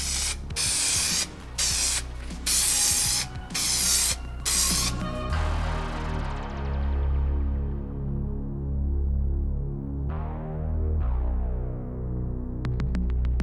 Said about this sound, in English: Let's spray some spray adhesive on both sides,